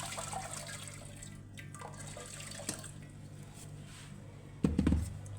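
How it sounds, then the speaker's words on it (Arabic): Hot water trickles and splashes quietly into a tray, with a short louder pour near the end over a low background hum. "جبنا صينية حطينا بقى فيها مية سخنة"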